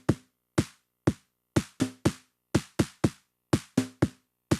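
A drum part pitched down an octave with a shortened envelope plays in Ableton: dry, punchy hits in an uneven syncopated pattern, each with a sharp attack and a quick decay into silence, with no voices.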